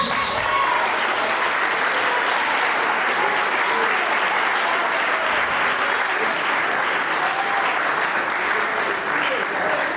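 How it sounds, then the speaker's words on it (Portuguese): A church congregation applauds, loud and sustained clapping from a large crowd that holds evenly for the whole stretch, with faint voices mixed into the din. "Você pode aplaudir a Jesus."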